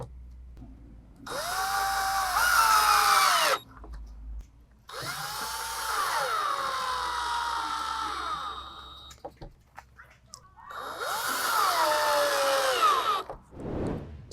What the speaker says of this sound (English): You're going to be lining it up flush with this back end and drilling 4 E screws